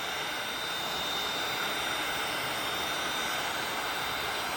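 A heat gun blows a steady, even rushing roar at close range while warming vinyl wrap, a continuous airy hiss with a faint high whine and no talking.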